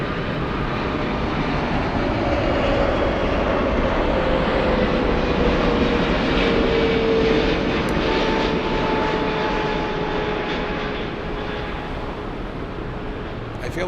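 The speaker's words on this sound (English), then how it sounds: "This is flight 8X inbound from Dubai on a 777-300." An Emirates Boeing 777-300 arriving at Frankfurt from Dubai, a loud, sustained jet engine roar with a steady whine, fairly close and constant over the whole stretch, slowly easing toward the end.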